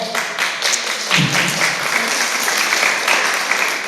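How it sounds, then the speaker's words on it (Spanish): Loud, sustained applause from a church audience at a Christian trivia night fills the whole stretch, dense and steady throughout with no break. "Fuertes los aplausos, por favor."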